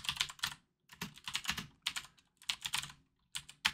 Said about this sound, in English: I'll be studious, I'll be diligent, and I'll type it.